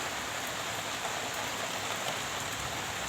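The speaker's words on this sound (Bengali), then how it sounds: "তো আমি একটু বৃষ্টিটা দেখি।" Rain falls steadily over a rural Bengal village in the evening, a constant close hiss of drops on surfaces with no talking.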